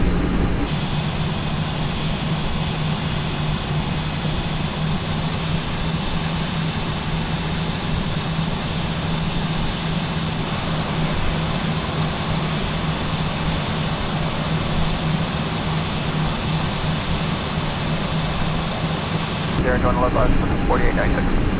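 Steady, loud engine and airflow roar inside an A320 airliner cockpit during descent with throttles at idle, continuous and even throughout, with a brief change in tone near the end.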